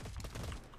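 Rapid gunfire in the Cyber Hunter video game, a dense burst of overlapping shots packed into under a second, loud and continuous with no talk.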